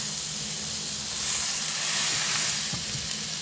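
A seasoned burger ball sizzles steadily on a hot griddle, a loud, continuous frying hiss with faint crackles running throughout, no voices.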